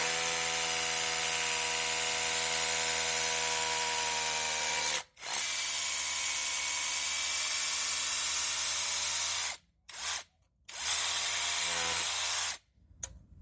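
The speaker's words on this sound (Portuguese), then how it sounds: "Para vocês verem a diferença que é desse martelete perfurador lá naquele bloco de concreto" A DeWalt-bit hammer drill grinds steadily into a concrete block, a loud continuous buzzing drone that cuts out briefly a few times before restarting, with no voices.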